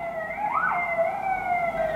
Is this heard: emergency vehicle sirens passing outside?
yes